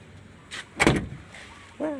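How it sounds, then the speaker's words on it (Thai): A door at a Bangna Tractor excavator dealership swings and closes with a short solid thud, followed by a faint creaking squeal, sounding close and brief against quiet surroundings. "เสียงปิดประตูดัง ตึ๊บ"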